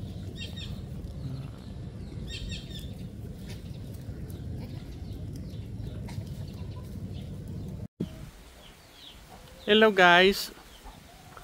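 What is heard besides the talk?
chickens clucking on a farm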